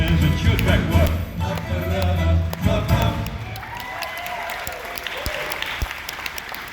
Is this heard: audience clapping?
yes